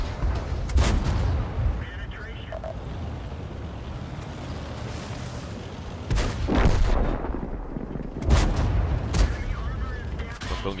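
Tank cannon shots from a Chi-Ri in a multiplayer tank video game, with heavy booming blasts around 1, 6 and 8.5 seconds over a constant low rumble of engine and battlefield noise.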